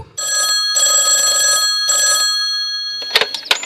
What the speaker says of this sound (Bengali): হঠাৎ টেলিফোনটা বেজে উঠল।